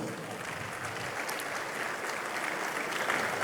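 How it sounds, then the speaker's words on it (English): Audience applause at an investment summit, a steady wash of clapping heard at a distance and fairly quiet, continuing evenly without talk. "Let's give him another big round of applause."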